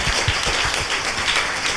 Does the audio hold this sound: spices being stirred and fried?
no